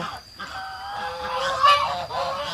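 Geese honk repeatedly on a rural farm plot, several nasal calls overlapping in a steady, fairly close chorus with no talk over them.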